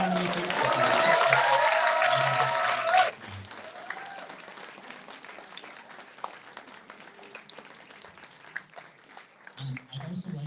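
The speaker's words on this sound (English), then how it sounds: "a big round of applause once again for everyone who was nominated." Clapping from an audience at the 2022 STAR Awards ceremony for the nominees, a few seconds of loud dense applause under a speaker's voice that cuts off abruptly, followed by softer scattered claps and talk.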